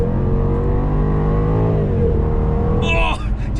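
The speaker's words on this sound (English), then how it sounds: "Oh, did you hear the gear change?" A Jaguar XKR accelerating hard along a straight road, its engine roaring loudly with rising pitch before a gear change drops the revs near the end, heard from inside the car.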